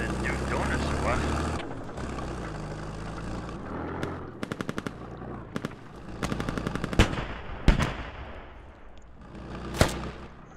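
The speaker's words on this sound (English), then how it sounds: "Ah, crap, we're taking fire." Bursts of automatic gunfire and single shots crack through a tactical military shooter battle in Squad, with rapid rattling volleys and sharp loud reports over a low rumbling background and voices.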